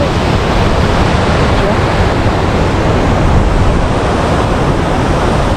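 Ripple Falls in Munnar running with lots of water: a loud, dense, unbroken roar of falling water filling the whole soundscape.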